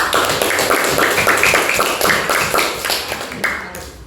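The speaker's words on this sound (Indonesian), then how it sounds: "Tepuk tangan untuk temennya" A classroom of students claps for a classmate, a loud, brisk burst of many hands that stays dense and steady, then thins out and tapers near the end.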